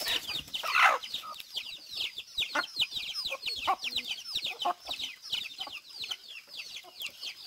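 Chickens on a farm cluck steadily and overlap in a busy chorus of short calls, with one louder burst near the start and constant clucking throughout.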